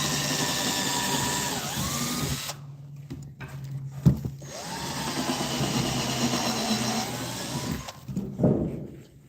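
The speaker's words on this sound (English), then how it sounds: "I'm pre-drilling some holes so that you can then screw them in." A power drill whines up to speed, bites into wood while pre-drilling holes and spins down, twice in a row, close by with brief knocks between runs.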